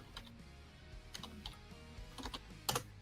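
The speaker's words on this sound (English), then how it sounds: "The keyboard is so loud." Loud computer keyboard typing in irregular bursts of sharp clicks, close up, with a few heavier keystrokes near the end.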